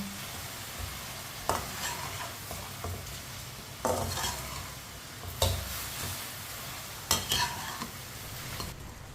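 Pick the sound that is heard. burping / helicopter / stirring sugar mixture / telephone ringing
stirring sugar mixture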